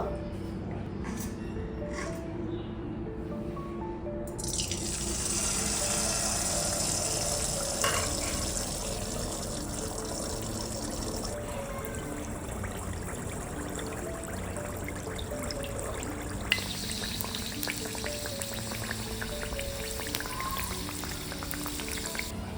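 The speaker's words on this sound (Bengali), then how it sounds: "এবার গুড় ভিটেটা ভেজে নেব এক হাতা করে দেবো" A ladleful of jaggery gur pitha batter drops into very hot oil on a low flame. A bright hiss swells after a few seconds, then settles into a steady bubbling fry with a brief later surge.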